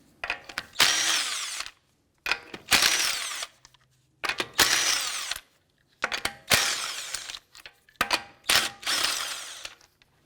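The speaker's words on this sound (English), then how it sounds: "Using a 19mm socket, let's go ahead and remove our lug nuts." A power impact tool with a 19mm socket zips off the lug nuts of a 2004-2008 Acura TL in five loud, close bursts of rattling whirr, each separated by brief silence.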